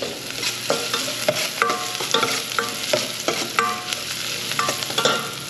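Okra and string beans fry and get stirred in a hot pan, with a steady close sizzle and repeated scraping, clattering utensil strokes in an uneven rhythm.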